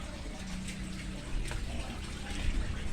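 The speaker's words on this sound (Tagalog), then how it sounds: "Sinasabay ko na pagpapalit ng tubig ngayon dito." Water pouring steadily from a PVC pipe into a concrete fish pond during a water change, a continuous close gushing splash.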